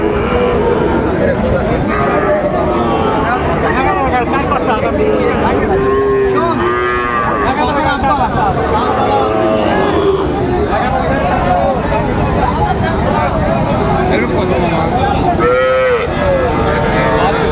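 A Sahiwal bull calf moos loudly several times at a busy cattle market, its calls rising over a constant hubbub of crowd chatter and nearby voices.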